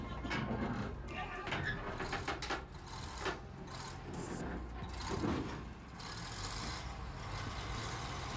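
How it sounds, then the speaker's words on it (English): A heavy bulldozer backing slowly off a truck without a ramp, its engine rumbling steadily at a distance amid broad outdoor noise, with faint intermittent tones over the drone. "The machine inches backward gradually, without the aid of a ramp, and smoothly touches down."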